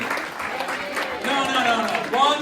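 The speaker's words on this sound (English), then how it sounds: "I want everyone to stand up, turn around, and give them a clap" Scattered clapping from a film festival audience at a university event, moderate and somewhat distant, mixed with murmuring voices and occasional speech.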